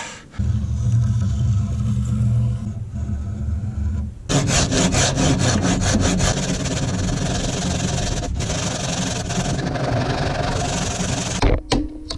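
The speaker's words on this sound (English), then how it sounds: "I'm going to use the saw and the chisel to take away most of it" A hand saw cuts into a wooden axe handle during a restoration done without power tools, steady loud rasping strokes in a continuous rhythm up close, following a lower rumbling stretch, with no speech.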